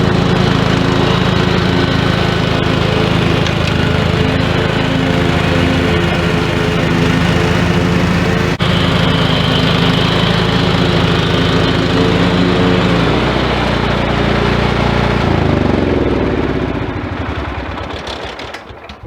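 A lawn mower engine drones loudly and steadily, holding a constant pitch before winding down and fading near the end.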